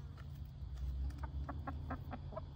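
Chickens and young chicks cluck in a quick, uneven series of short, soft calls over a steady low background rumble, with no voices.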